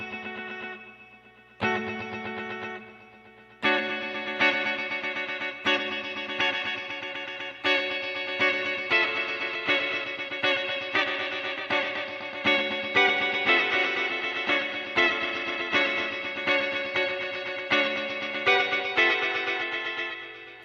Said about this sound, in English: This one's called Euclidean. So obviously, you get those kind of very sputtery rhythmic tones.